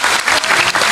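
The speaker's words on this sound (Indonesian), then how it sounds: "Masya Allah, tepuk tangan." A crowd applauds steadily and loudly through the whole moment, dense clapping filling the space at an Islamic sermon gathering, with no voices over it.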